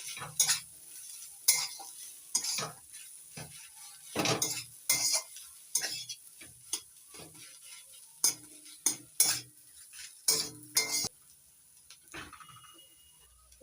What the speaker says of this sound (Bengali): এবার দিয়ে দিচ্ছি এক চামচ জিরের গুঁড়ো নাড়াচাড়া করে মিশিয়ে নেব ফুলকপির সঙ্গে